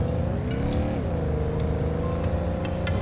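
A car engine in The Godfather on PlayStation 3 hums steadily close by, its pitch wavering and dipping briefly as it drives, with faint rhythmic clicks over a continuous drone.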